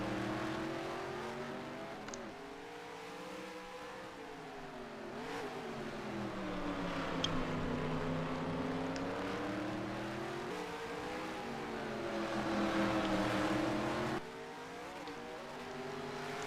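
Stock cars racing on the Chicago street circuit in the game NASCAR Racing 2003, engines droning and rising and falling in pitch as they rev through corners, steady and fairly close, with a brief shift near the end.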